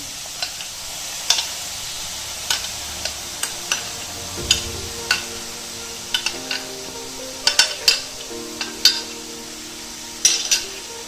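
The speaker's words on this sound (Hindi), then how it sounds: "अब इसमें टोमेटो पेस्ट डालेंगे।" Tomato paste going into a pan of okra masala cooked without oil, followed by repeated scraping and stirring taps of a spoon against the pan, clear and near, with no talking.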